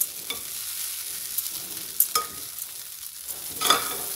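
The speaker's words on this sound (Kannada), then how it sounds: "ಬಿಸಿನಲ್ಲಿ ಹಾಕಿ ಒಂದು ರೌಂಡ್ ಜಸ್ಟ್ ಹಿಂಗೆ ಮಿಕ್ಸ್ ಮಾಡಿಕೊಂಡ್ರೆ ಆಯಿತು." Gojjavalakki poha being stirred in a hot pan, a steady soft sizzle with a few sharp scraping strokes of the spoon, close and alone.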